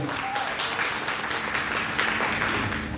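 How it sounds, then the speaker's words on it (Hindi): An audience claps enthusiastically at a Teej Queen contest held by an Agarwal community organization, steady continuous applause with a faint tone and murmur mixed in. "एक बार इनके लिए जोरदार तालियां"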